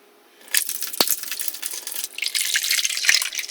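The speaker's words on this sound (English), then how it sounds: "Turn the tap on more. All I want is enough water to fill up this container." Water runs from a tap into a container for rice cooking off grid, a steady broadband rush starting after a brief quiet, with a sharp clink near the start and continuous splashing that thickens as it fills.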